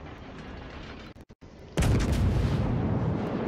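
Naval gunfire in World of Warships, with the cruiser Omaha firing its guns. A steady low rumble breaks off briefly, then a loud, booming salvo erupts and keeps rolling on, heavy and close, with no voices.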